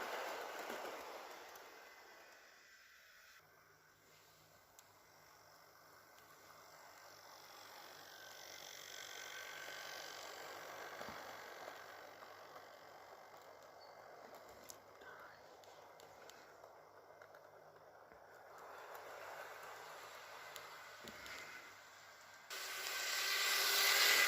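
Hornby J50 model locomotive pulling passenger coaches around a temporary layout, giving a faint, steady rolling hum with light rhythmic clicking of wheels on track, while a voice talks quietly over it.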